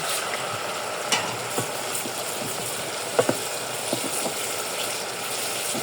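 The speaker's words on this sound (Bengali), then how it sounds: "একটু ভেজে নেব কাঁচা গন্ধ চলে যাওয়া পর্যন্ত।" Spices frying in a pan for bhuna khichuri, a steady even sizzle with occasional sharp clicks and taps of a spoon against the pan, close by and without speech.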